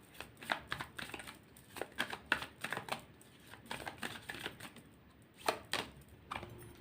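Tarot cards being shuffled by hand, a series of quick crisp riffling bursts and soft slaps in uneven clusters, close and fairly quiet with brief pauses between runs.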